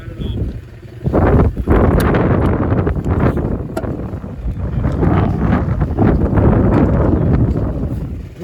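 Wind gusting over open water at an anchored boat, a broad steady roar with rushing buffets close to the microphone that fill the whole stretch.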